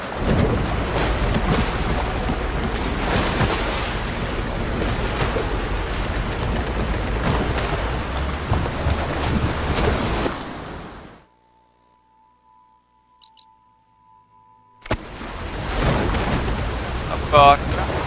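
Sailing on water in Horizon Forbidden West, a steady rushing wash of waves and spray that runs loud for about eleven seconds, drops to near silence with a faint tone, then returns.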